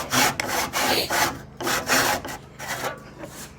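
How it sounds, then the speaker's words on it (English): A hand saw cuts through a thick timber joint in rhythmic back-and-forth rasping strokes, close and fairly loud, with no talking. "just going to make sure when we're sawing, we're doing it evenly"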